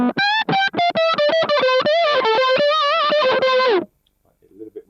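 Electric guitar through an octave fuzz effect on a Boss GT-10 multi-effects processor: a run of thick, buzzy notes played one after another, bending and sliding before cutting off abruptly into near silence, with a few quiet notes after.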